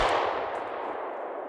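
A single shotgun blast is fired at a woodcock during a hunt. The report is sharp and close, then fades quickly into a decaying tail, with no voices.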